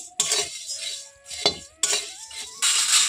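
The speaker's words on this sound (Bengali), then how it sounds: "আমি তাতে মুড়িগুলো ঢেলে দিয়েছি মুড়িগুলো দিয়ে আমি খুব ভালোভাবে মুচমুচে করে ভেজে নেব" Puffed rice rattles and scrapes as it is stirred in a wok, bursts of dry rustling and metal clinks coming in uneven sweeps.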